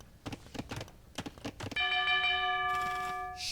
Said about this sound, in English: Alright, there's a bell.